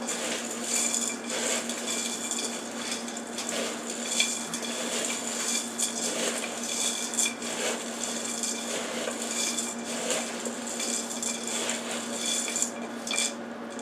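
Granola, walnuts and dried cranberries being stirred together in a bowl, a continuous scraping and rustling with light clinks of the spoon, steady and fairly close throughout with no talk.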